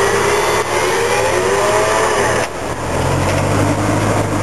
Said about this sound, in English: Let the winch do the work.